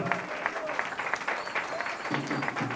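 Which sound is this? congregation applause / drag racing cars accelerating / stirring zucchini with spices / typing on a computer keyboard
congregation applause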